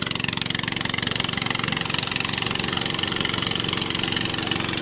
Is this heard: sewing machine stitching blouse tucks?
no